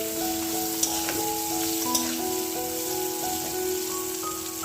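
Eggplant slices fry in a pan with an even, continuous sizzle and light crackle, close and moderately loud, with faint tonal sounds in the background and no talking.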